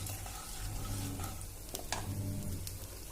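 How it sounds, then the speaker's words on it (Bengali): Cumin seeds sizzle in hot oil, a soft steady crackling fry with a few sharper pops, quiet and close, with no talking. "তেলে জিরেটা দিয়ে দিয়েছি"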